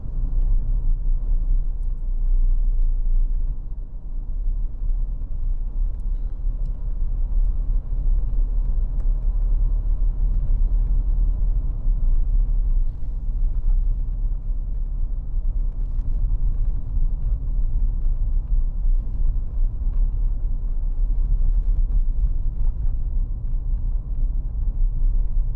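2015 Dacia Duster 1.5 dCi diesel on a test drive, a steady low cabin rumble of engine and road noise continuing evenly from start to finish, with no talking.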